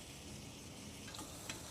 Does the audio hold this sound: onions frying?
yes